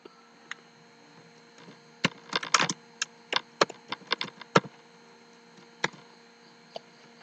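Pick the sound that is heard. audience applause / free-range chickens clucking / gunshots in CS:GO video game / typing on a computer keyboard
typing on a computer keyboard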